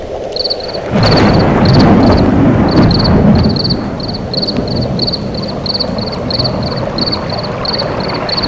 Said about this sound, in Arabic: عشان تطلع منه الضفادع وتغطي كل الأرض